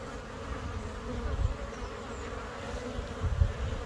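Honey bees buzzing at the entrance of a hive as they bring in pollen, a continuous low hum with a few louder passes from bees flying close by.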